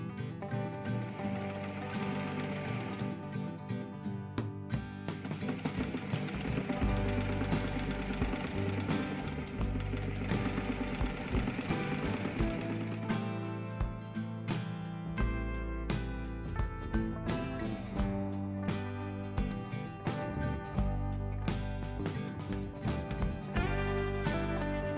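A 1957 sewing machine stitches a seam with number 69 polyester thread, its rapid mechanical needle clatter running steadily and close, with short pauses in the rhythm and no talk.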